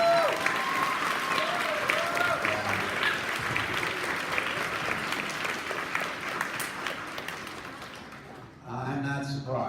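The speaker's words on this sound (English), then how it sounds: "By a round of applause, how do we think Officer Sarah did?" Loud, sustained applause and cheering from an audience at a school D.A.R.E. graduation, tapering near the end as an amplified voice begins speaking over the fading claps.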